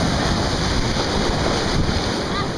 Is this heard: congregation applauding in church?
no